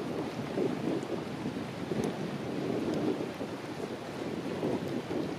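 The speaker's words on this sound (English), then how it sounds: "I think we're pushing around 15 mile an hour winds," Strong gusty wind of roughly 15 to 20 mph buffets the microphone while a kite is flown outdoors in darkness, a steady low roaring rumble with slow surges and no speech.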